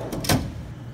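A metal toolbox drawer slides with two quick close scraping and thudding sounds, the second one louder, in an otherwise quiet workshop.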